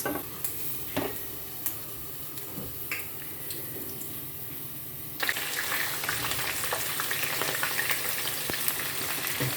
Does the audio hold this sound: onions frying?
yes